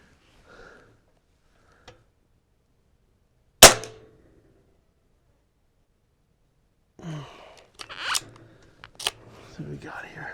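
A single sharp air rifle shot fired at a target during a scope test, one loud crack standing alone in a quiet range, followed several seconds later by a person talking.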